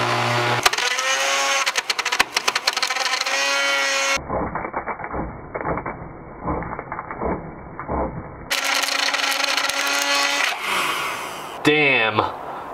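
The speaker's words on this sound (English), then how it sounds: "we're gonna stop putting so much torture on my poor blender" A blender grinds through a cheap grocery store phone, harsh rattling and crunching with a cut in the middle and a brief burst at the end, loud and close with no talk over it.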